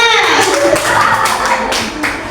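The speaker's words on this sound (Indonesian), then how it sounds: "Tepuk tangan untuk saya" A small group claps continuously for about two seconds in a school setting, with voices talking over the clapping.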